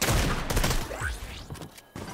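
Gunfire in Fortnite, a rapid flurry of sharp shots and thuds up front, then scattered pops and game effects trailing off over a couple of seconds.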